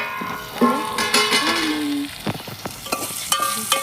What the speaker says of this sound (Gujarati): દાણા સરસ તેલમાં સડી જાય